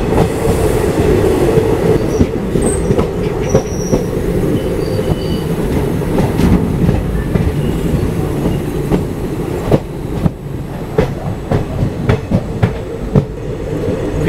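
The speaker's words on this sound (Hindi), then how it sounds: "ट्रैक साउंड मिल रहा है आपको ICF कोचेस का।" Indian Railways ICF passenger coaches hauled by a WDP diesel roll along the track in a steady, loud rumble, with repeated clickety-clack wheel beats over rail joints and occasional faint wheel squeal, no voices.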